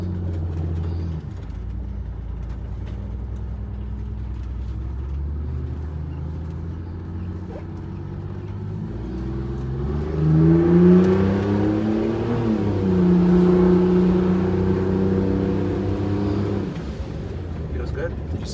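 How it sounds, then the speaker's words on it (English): A Wanderlodge bus with a turbocharged Detroit 6V92TA diesel engine accelerating, a steady low drone that rises in pitch and loudness midway, with people talking over it. "Feel free to get on it a little bit here just to see how that throttle response feels."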